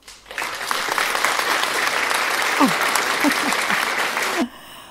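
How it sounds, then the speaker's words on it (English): Steady applause for a first podcast episode, a dense, even patter of clapping at moderate loudness that stops abruptly near the end, with a few faint vocal sounds mixed in. "Round of applause."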